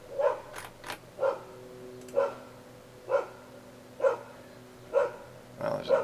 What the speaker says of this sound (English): there's a dog just going to town